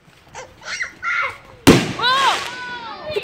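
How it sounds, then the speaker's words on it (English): Fireworks burst with a sharp loud bang after quieter crackles and distant pops, followed by a long whistling, crackling shower of sparks; voices are heard faintly beforehand. "We're setting the fireworks now."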